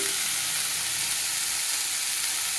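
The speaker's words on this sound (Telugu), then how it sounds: "చూసారా, చక్కగా పచ్చిమిర్చి, టొమాటో ముక్కలు, వంకాయ ముక్కలు బాగా మగ్గుతున్నాయి" Green chillies, tomato pieces and brinjal pieces sizzling steadily in a pan, a continuous close frying hiss with no talk.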